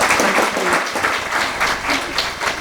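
Audience applause at a literary awards ceremony, a steady dense round of clapping filling the whole stretch at even loudness, with no talk over it.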